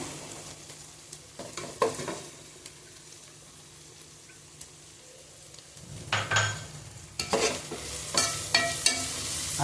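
Coriander and mint sautéing in a pan for mushroom biryani, with a soft background sizzle broken by scraping stir strokes, quieter at first and then louder and busier toward the end, close by with no talking.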